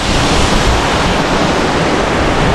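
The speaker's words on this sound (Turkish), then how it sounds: "Şurası dediğim gibi şelale." A waterfall in Peru near Lima makes a loud, steady roar of rushing water that fills the whole stretch without any pause, with no voices over it.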